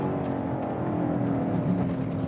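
A BMW X5M or X6M SUV cruises along a winding road with elevation changes, a steady muffled engine and road hum heard from inside the cabin.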